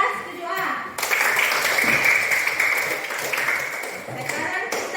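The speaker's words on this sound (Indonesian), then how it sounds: "tepuk tangan untuk kelas 7A" A classroom of students applauds class 7A, a dense burst of clapping that starts about one second in and holds steady, with a voice audible briefly before it begins.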